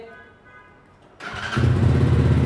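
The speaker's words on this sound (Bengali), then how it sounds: "এখন আমি এই বাইকটা স্টার্ট করব চাবি ছাড়াই" A Speeder NSX 165 motorcycle is started without a key; after quiet background noise the engine catches abruptly and settles into a loud, steady idle close by.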